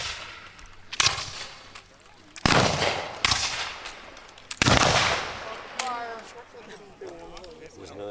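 Reenactors fire flintlock muskets at a Revolutionary War reenactment at Fort Roberdeau: four sharp, loud reports a second or so apart, each ringing out, with voices calling between them and some misfires among the shots.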